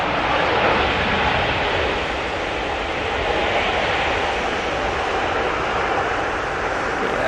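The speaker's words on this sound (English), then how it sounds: "Going to have to go heavy on the reversers here." Airliner landing at Manchester Airport with heavy reverse thrust, a loud, dense, continuous engine roar that stays strong and close throughout.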